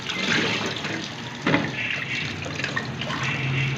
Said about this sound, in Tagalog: Lagyan mo natin ng tubig.